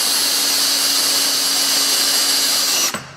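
A power drill drives a screw with a square driver bit, a loud, steady high whine for about three seconds that cuts off abruptly as the screw tightens.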